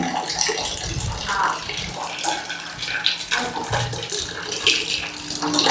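Water runs from a tap and splashes into a container nearby, a steady uneven gush with some clattering, no clear voices.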